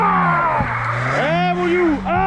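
A car engine revs hard as its wheels spin with a rising whine, loud and close, while people talk and shout over it.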